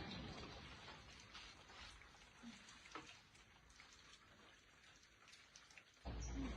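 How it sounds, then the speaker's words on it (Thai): Soft, steady patter of rain falling, quiet and diffuse, with a few louder drops and a brief low thump near the end. "เนี่ยฝนตกแล้ว"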